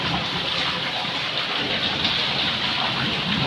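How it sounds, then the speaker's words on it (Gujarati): Heavy rain pours steadily during a thunderstorm, a dense, close, continuous hiss with no clear breaks and no voices. "મિત્રો અત્યારે ગાજવીજ સાથે ફૂલ વરસાદ આવે છે"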